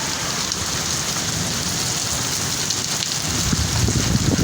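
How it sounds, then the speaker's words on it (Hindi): Heavy rain pours steadily in a dense, continuous hiss and patter on surfaces, with no speech. "बहुत ही तेज़ बारिश हो रही है"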